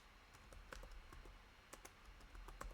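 Commands tapped out on a computer keyboard while starting a Kafka container on Windows: quick, irregular keystrokes with short bursts and pauses, quiet and close, no voices.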